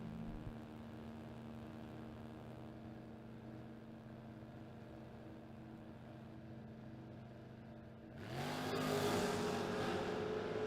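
A 1970 Camaro and 1966 Chevelle drag racing at the strip, a steady droning engine note far off that swells sharply into a loud, rising rev near the end.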